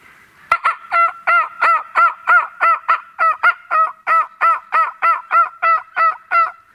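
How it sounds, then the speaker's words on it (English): Wild turkeys calling in December woods on a late-season hunting outing, a loud, close, rapid run of about nineteen harmonic calls at an even pace of roughly three per second, opened by a sharp click, with no talking. "turkeys just going crazy"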